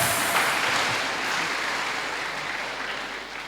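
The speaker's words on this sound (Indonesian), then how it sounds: "Tepuk tangan dong teman-teman kaum muda." Young people at a live church youth class applaud, a steady broadband patter of clapping heard from a distance at moderate level, fading gently over a few seconds.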